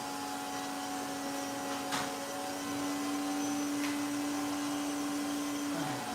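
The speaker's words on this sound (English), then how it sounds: "Just vacuum these bees up on this side." A vacuum sucks up honeybees during a hive cutout, holding a steady close whine with a fixed motor hum throughout, brief rattling thumps as bees and debris are drawn in, and no talk.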